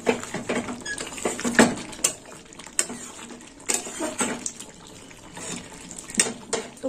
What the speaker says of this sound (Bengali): একটু নেড়ে চেড়ে নেবো।